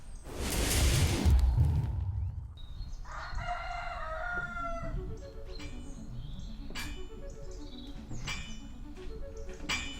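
A rooster crows several times in a series of clear, rising and falling calls at moderate distance, after an opening burst of loud whooshing noise, with quieter clucks in between.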